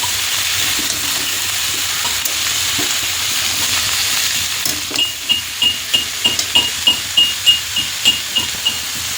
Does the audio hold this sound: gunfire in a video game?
no